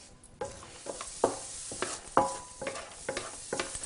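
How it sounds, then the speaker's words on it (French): Onions sautéing without fat in a wok-type pan, a soft sizzle punctuated by a rhythmic series of sharp utensil knocks and scrapes every half second or so. "on va donc mettre les oignons à revenir"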